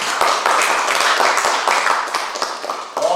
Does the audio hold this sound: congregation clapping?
yes